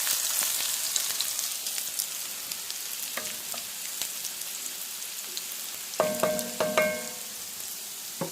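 Smash burger patties of half wild pork and half deer fry with a steady, close sizzle. A few metallic clinks and scrapes of a spatula on the cooking surface come near the end, and no one speaks.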